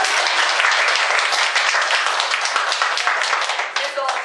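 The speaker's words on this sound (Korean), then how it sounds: "박수." A lecture audience at a parenting class breaks into dense, sustained applause, many hands clapping loudly and continuously before thinning slightly at the end.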